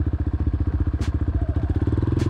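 A Yamaha XT 250 motorcycle thumps steadily while riding at an easy pace, its single-cylinder pulses loud and close with a couple of brief high swishes of passing air.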